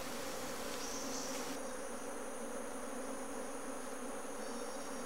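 Bees buzzing around their nest in jungle bushland, a dense, steady drone filling the whole clip with a higher whining tone layered over it early on; no voices.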